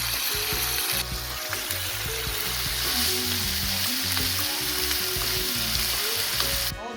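Stir-fry vegetables seasoned with salt and black pepper sizzle steadily in a hot pan, a constant close frying hiss with faint scrapes throughout and no talking.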